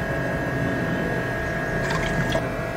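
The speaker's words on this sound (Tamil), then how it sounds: "இதுலேயே 4 கப் அளவில் தண்ணி சேர்த்துக்கணும்." Water poured steadily into rice and milk for pongal, a continuous close splashing fill with no talk over it.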